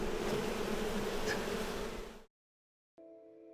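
Honeybees fan their wings inside a hive to keep cool, making a dense, steady buzz close by that cuts off abruptly into silence, then a faint low hum returns at the end.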